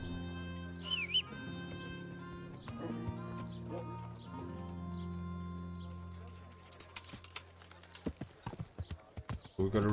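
Horse hooves clip-clop in the medieval video game Kingdom Come: Deliverance, a run of sharp, rapid hoofbeats building in the latter half over music and a low ambient drone, with a voice speaking early on.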